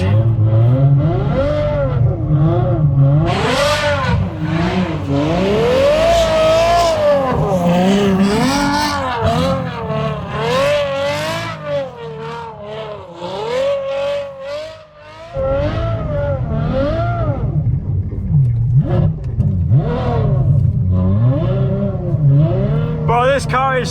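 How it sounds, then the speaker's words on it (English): A Ferrari F12 V12 engine revs hard while driving in snow, loud rising and falling engine pitch with gear changes and tire noise, close and continuous, with someone talking over it. "this car is so much fun to drive in the snow"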